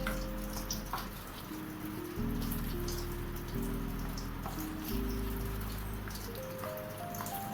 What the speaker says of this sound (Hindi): तो चलिए इसमें डालते हैं पानी, इसे पतला करते हैं।